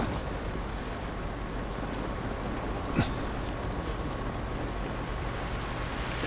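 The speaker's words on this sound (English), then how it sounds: "This rain ain't gonna do us any good." Steady rain in the video game The Last of Us Remastered hisses down in a dense, even wash, with one brief sharper tap midway; no one speaks.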